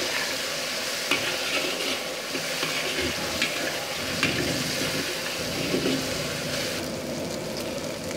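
Ingredients stir-fry in hot oil in a pan for Hokkien mee kicap, a steady, close sizzle with scraping and stirring clatter running throughout.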